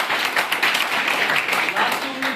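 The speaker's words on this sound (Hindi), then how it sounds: "तालियां हो सकते हैं सर के लिए।" An audience applauds a speaker at a motivational session on job challenges, with dense, steady clapping that fills the room and a voice heard over it near the end.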